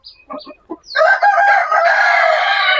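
A few short clucks from a nearby broody hen, then a loud drawn-out call that carries on for almost two seconds.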